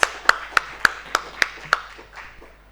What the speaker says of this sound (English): And another clap.